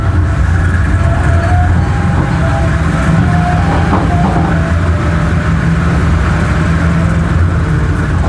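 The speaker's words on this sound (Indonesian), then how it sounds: "Kereta api Banyu Biru Express akan sudah tiba di stasiun Gundi." Banyubiru Express passenger train pulling into Gundih station, a steady loud rumble of wheels and carriage heard from on board, with faint high squealing tones drifting through.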